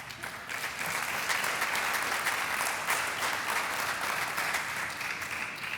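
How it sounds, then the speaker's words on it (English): An audience claps steadily at a moderate distance, a dense even patter of hands with no talk over it. "And I appreciate the applause,"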